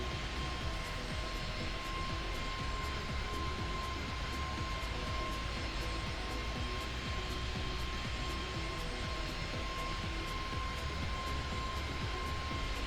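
Steady airplane engine drone in the cabin during a flight from Oakland to Phoenix, a constant broadband roar with an even hum, unchanging and moderately quiet throughout.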